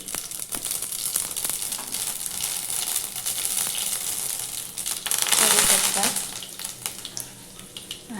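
Mustard seeds sizzle and crackle in hot oil, with the gas turned off, while kadhi bhaji is being made; a steady frying hiss runs throughout, swelling briefly midway, with faint talk in the background.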